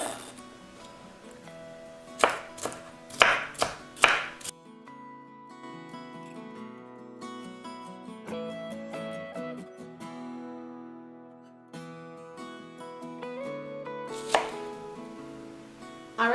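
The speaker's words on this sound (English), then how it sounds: "chop them into smaller pieces, however you like your peppers cut" A knife chops bell peppers on a cutting board in a few quick bursts of sharp, close knocks, with pauses between them and a final short run of chops.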